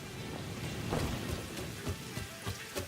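Heavy rain pours steadily in a factory-building video game, a dense wash of hiss with faint low rumbles and scattered louder patters, continuous and fairly quiet with no voices.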